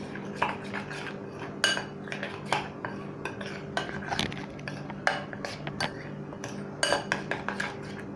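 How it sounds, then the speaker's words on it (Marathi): A spoon stirs paneer tikka batter in a bowl, scraping and clinking steadily against the sides with frequent light metallic taps, close and alone over a faint steady hum. "आपण एक चमच्यानेच मिक्स करून घेणार आहे"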